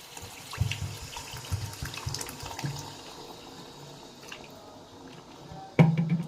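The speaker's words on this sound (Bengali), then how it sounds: "এবার এর মধ্যে আমি জল দিয়ে দেবো।" Water is poured into a pan of potato curry with spices for an egg and potato curry, giving a soft, fairly faint trickle and splashing that ends in a brief louder splash.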